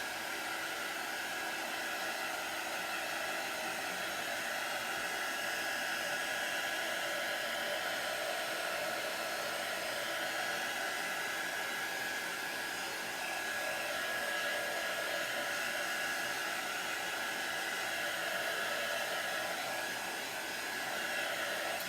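Hair dryer running steadily and loud for the whole stretch, drying a chalk-painted DIY Disney craft piece, a constant broadband whoosh with a faint whine and no talking.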